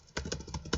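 A few quick keystrokes on a computer keyboard, close and fairly soft, tapped in an uneven rhythm while entering commands in Packet Tracer.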